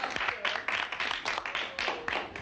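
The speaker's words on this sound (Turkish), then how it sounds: "Bravo. Alkışlıyoruz." Studio audience applauding and cheering "bravo" on a Turkish comedy sketch show, a dense continuous wash of clapping swelling in repeated bursts.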